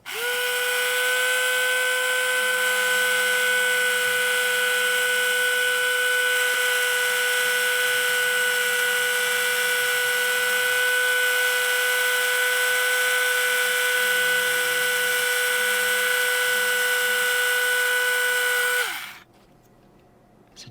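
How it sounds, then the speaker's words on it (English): A Tamiya electric handy drill runs continuously with a steady high-pitched motor whine for nearly twenty seconds, close and loud, then stops abruptly. "let's continue drilling"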